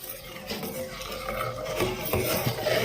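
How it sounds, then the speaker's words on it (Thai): A rice and starch mixture is stirred steadily in a pot while it cooks toward thickening, giving continuous close scraping and soft sloshing with faint sizzling underneath, no voices. "อย่าทิ้งหม้อ กวนไปเรื่อย ๆ ค่ะ"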